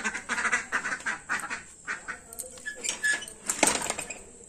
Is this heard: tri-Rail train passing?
no